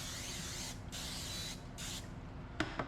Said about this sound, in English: Let's go cooking spray.